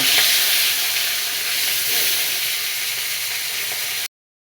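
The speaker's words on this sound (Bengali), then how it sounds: "ইলিশ মাছের মাথাগুলো প্রথমে আমি ভেজে নিচ্ছি" Hilsa fish heads fry in hot oil with a steady, close sizzling hiss that holds level, then cuts off abruptly, with no talking.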